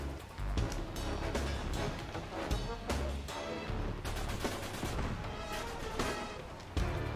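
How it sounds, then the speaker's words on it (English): Gunfire in an Uncharted 3 multiplayer match, a dense stream of close, rapid shots and impacts cracking over constant battle noise without pause. "I'm getting shot at"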